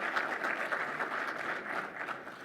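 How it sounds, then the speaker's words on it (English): An audience at a logistics summit panel discussion in Georgia claps in steady, dense applause that carries on evenly without a break, heard from some distance in a large room. "that's right, a round of applause"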